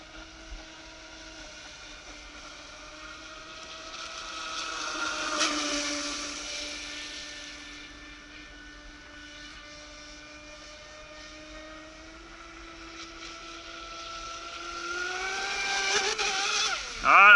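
A Navicraft Rebel 12s RC boat's electric motor whines at high throttle, a steady tonal buzz that rises and falls as it passes at a distance, then surges louder near the end.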